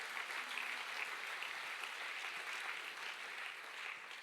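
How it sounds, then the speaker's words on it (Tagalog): Church congregation applauding together, a steady, even wash of many hands clapping through the whole stretch without a break, fairly faint and distant, with no one speaking over it. "Palakpak pa tayo sa Panginoon."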